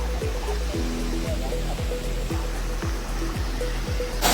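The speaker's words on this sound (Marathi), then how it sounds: "पाण्याचा झोत मस्त आहे वरती बघा जबरदस्त वॉटरफॉल" Rushing water at Kundi waterfall makes a steady, dense roar that fills the scene without a break, with a rhythmic music beat layered over it throughout.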